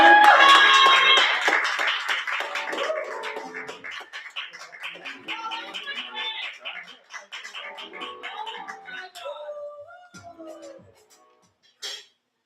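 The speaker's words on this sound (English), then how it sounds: "Clap till the poet gets to the stage" An open-mic audience claps for a poet walking to the stage, starting as dense loud applause that thins gradually into scattered claps and fades out, followed by a final lone tap.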